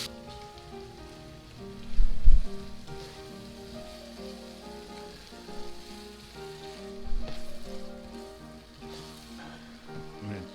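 Sambal paste cooks down in a pan with a soft, steady sizzle and crackle, broken by a couple of louder bumps or stirs, with faint tonal background music beneath.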